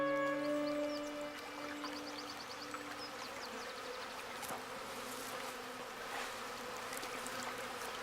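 A swarm of honeybees hums steadily for several seconds, a dense continuous drone with a few closer insects whining past, set among farm hives without any talk.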